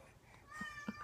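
A hungry cat gives a faint, short meow indoors in the morning, a brief plaintive call sounding once or twice at low volume.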